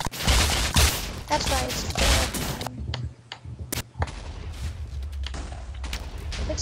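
Rapid bursts of flashbang shots crack out in a dense volley during a Minecraft battle, a brief pause, then scattered sharper pops continue, with a voice talking over the opening.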